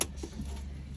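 A key jingles briefly as it turns in a Fiat Ducato ignition, a faint metallic rattle over a low interior hum.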